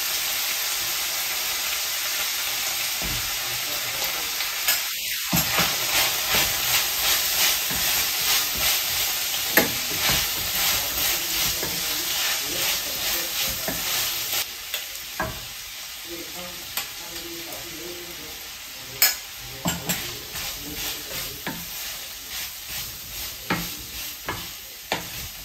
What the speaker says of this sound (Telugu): ఈ కూరని ఒక్క 2 నిమిషాల పాటు ఫ్రై చేసుకోవాలండి